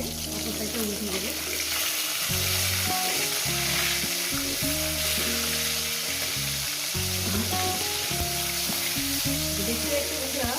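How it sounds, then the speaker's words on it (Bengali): Fish pieces fry in hot oil and are turned to the other side, giving a dense, continuous crackling sizzle with occasional stirring scrapes over background music. "মাছের এক সাইড হয়ে গেছে, অপর সাইডটা উল্টে দেবে।"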